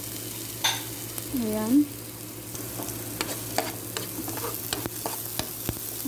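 Onions fry in a little oil for harees sauce with a low steady sizzle and repeated scraping and tapping of a stirring utensil, while a person briefly speaks.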